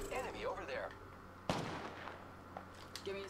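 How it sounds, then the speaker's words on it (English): Enemy gunfire in the battle royale game Apex Legends, with a sharp loud shot cracking out midway and smaller pops after it, heard among game effects and ambient noise. "Enemies are shooting at me."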